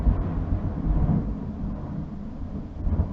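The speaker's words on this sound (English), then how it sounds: "it is very much thunder and lightning" Thunder rumbles during a thunderstorm, a deep, rolling low growl that swells and fades over several seconds and sounds fairly close. No one speaks over it.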